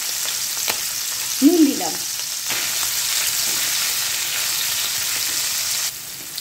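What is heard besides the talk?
boiled soybeans frying with salt in a pan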